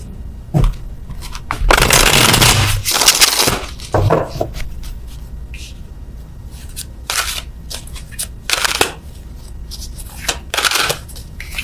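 Tarot cards are handled and shuffled in bursts of close, crisp riffling and flicking, with quieter gaps and a few light taps between the shuffles while a card is being drawn.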